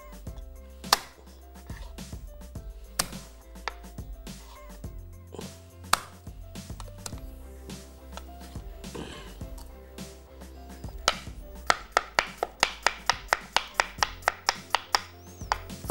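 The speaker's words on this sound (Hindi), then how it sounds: "लहसुन को चॉप नहीं कीजिएगा, बस इस तरीके से कुचलना है इसको" Garlic cloves and ginger crushed by hand, a series of sharp close thuds and taps, sparse at first and then coming in a quick, regular burst toward the end, with some background music.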